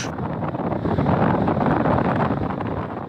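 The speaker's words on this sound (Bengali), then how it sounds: "বাতাসও বাড়ি গেছে ঢেউও বাড়ি গেছে" Strong wind from Cyclone Remal roars and buffets steadily on the Bangladesh coast, loud and close, blasting across the microphone for the whole stretch.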